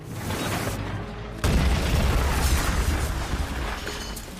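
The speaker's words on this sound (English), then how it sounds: "causing a massive explosion" A car explosion in a film after brake failure: a sudden heavy boom breaks out partway through, then a dense roaring rumble with crackling debris that keeps going to the end.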